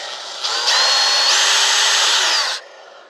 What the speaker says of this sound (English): So for the drill I use 1/8 inch, and just kind of line it up kind of in the middle